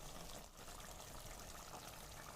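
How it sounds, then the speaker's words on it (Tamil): Water is poured into a mutton masala mixture for kulambu, a steady continuous splashing trickle, close and fairly faint, with no talk. "அந்த ஒரு 70 ml மட்டுமே தண்ணி விட்டு இந்த மாதிரி கலந்து இதை ஊற்றிடுங்க"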